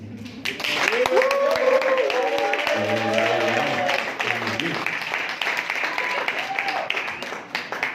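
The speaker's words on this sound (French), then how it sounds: "je vous supplie, je vous exhorte d'applaudir ces élégants débatteurs" Audience applause for debaters at an inter-university French-language debate tournament in Kenya, a sustained wash of clapping from a crowd that runs under a speaking voice, with a few shouts rising over it.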